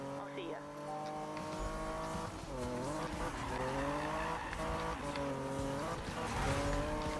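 Car drifting in Need for Speed 2016 on PC, with an engine droning and revving alongside long, wavering tire squeals that rise and bend across the run, steady and moderately loud, with a voice talking over it.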